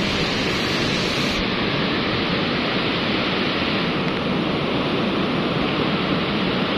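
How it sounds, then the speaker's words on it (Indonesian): Lahar floodwater from Semeru fills a wide river and rushes by as a loud, constant roar of churning water, steady from start to finish with no voices. "sungai selebar ini itu dipenuhi banjir"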